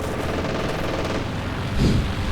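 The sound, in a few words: heavy machine gun fire in a strategy video game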